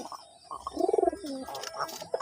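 Pigeons, including a female, coo softly nearby, a short series of low throaty pulses followed by another brief coo, with faint background chatter.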